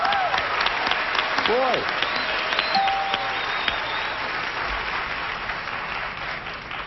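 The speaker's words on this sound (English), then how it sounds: "First time I ever heard anyone getting applause for pushing their button and saying nuts." Studio audience applause on a 1981 daytime game show, a moderate spatter of clapping with a voice and electronic beeps and tones sounding over it.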